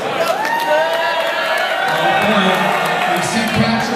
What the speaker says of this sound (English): for pit crew cheering her on